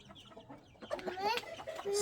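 A farmyard rooster clucks several times nearby, its calls rising over a soft background of rustling and faint voices.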